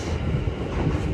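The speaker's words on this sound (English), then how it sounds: "There you go, that is my train leaving." A low rumbling train departs, rolling past with a steady rushing drone and faint rhythmic clatter from the rails.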